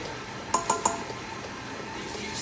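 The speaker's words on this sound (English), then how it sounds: "now I'm gonna add my baking soda." A measuring spoon taps three times in quick succession against a bowl while baking soda goes into flour for peanut butter cookies: small, bright clinks, close and alone over a quiet room.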